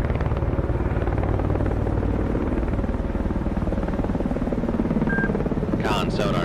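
Helicopter rotor thumping loudly and steadily as it lifts off a Russian Udaloy destroyer in the naval game Cold Waters, with low engine rumble and a brief radio-style voice near the end.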